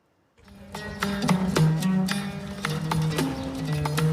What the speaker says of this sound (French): le pur sang arabe est considéré comme le cheval le plus élégant du monde